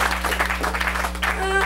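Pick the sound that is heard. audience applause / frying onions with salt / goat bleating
audience applause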